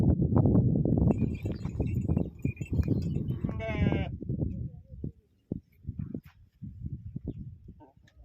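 Sheep and goats bleating on a farm, several overlapping calls close by alongside frequent speech and some clattering, with a loud drawn-out bleat around the middle before quieter talk.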